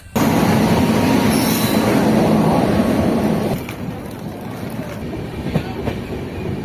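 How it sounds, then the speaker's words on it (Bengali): A train rumbles along the rails with a loud, steady roar and brief wheel squeal, then the noise drops to a quieter rolling hum. "তো এখন ট্রেন ছাড়ছে"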